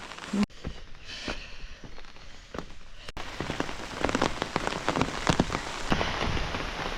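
Steady rain pours down during a storm on the Appalachian Trail, a dense hiss of drops striking nearby surfaces with scattered louder splats, growing heavier after a brief pause partway through; no one speaks.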